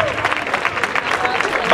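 An audience at a circus festival in Cabeza del Buey claps in a rhythmic, evenly pulsing burst, moderately loud and continuous, with talk overlapping the clapping.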